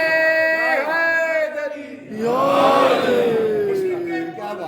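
A crowd at a religious majlis gathering chants a slogan in unison, two loud drawn-out vocal surges with a short pause between them.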